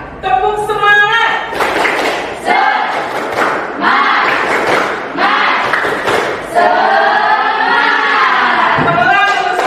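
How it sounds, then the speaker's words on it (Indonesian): A group in an Indonesian classroom does a rhythmic 'tepuk semangat' clapping chant as an ice breaker, loud and near, with shouted voices and clapped beats running throughout. "Kita lakukan ice breaking, tepuk semangat"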